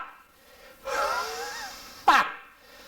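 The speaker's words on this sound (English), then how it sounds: "At the end, I'm snapping the diaphragm to get the sound out." One forceful breath: a long airy exhalation, then a sharp, sudden huff as the diaphragm snaps at the end, close and alone in a quiet room.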